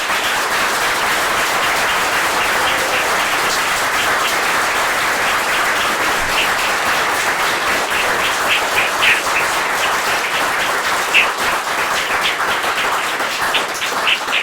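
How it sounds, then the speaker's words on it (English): An audience at a conference's closing session breaks into steady, full applause, a dense wash of many hands clapping at an even level for the whole stretch. "just join me in giving her a round of applause by thanks"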